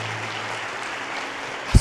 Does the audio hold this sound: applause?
yes